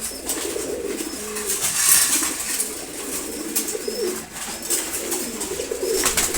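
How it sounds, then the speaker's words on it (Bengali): Racing pigeons feeding from their dishes in the morning coo continuously in soft, throaty rolling calls from several birds nearby, with faint pecking and rustling underneath. "এদিকে হচ্ছে রেসার কবুতর, ওদের খাবার শেষ প্রায়। দেখেন খাবার খেয়ে ফেলছে ওরা।"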